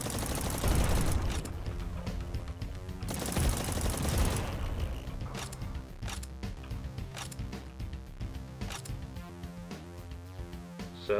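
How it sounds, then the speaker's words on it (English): Plasma rifle fire in the Project Warlock shooter game: dense bursts of rapid energy shots, then a run of sharp separate mechanical clicks and blasts, loud and close, with no voices. "Is that the plasma rifle? Is that what that was?"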